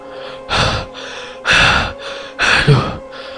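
Heavy panting breath from a man, three loud ragged inhale-exhale bursts about a second apart, close and breathy, with strained gasping at the end.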